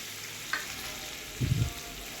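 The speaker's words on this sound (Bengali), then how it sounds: "লবণ আর হলুদ দিয়ে আলুটাকে ভালো করে লাল লাল করে ভেজে তুলে নেব" Potatoes frying in oil with salt and turmeric, a steady soft sizzle running throughout, with a brief scrape at about half a second and a low stirring clatter near the end; no voices.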